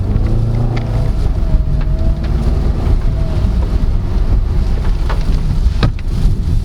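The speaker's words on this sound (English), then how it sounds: "There, you can hear the electric motor like whirring a bit." A faint electric whir from the mild-hybrid motor of a 2023 Suzuki Ertiga GLX automatic hybrid, heard inside the cabin under steady road and wind rumble.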